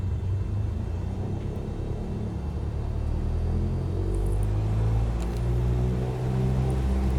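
A small single-engine aircraft in a flight simulator runs up its engine to about 1800 RPM: a steady, loud, low droning rumble that swells slightly and holds without a break.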